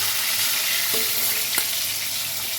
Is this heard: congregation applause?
no